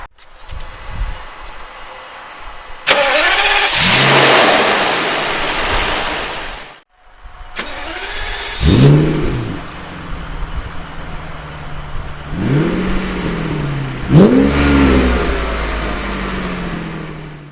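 A rare 1997 Mercedes SL 70 AMG fires up, then its engine is blipped in several rising and falling revs separated by brief idle, loud and close with no talking.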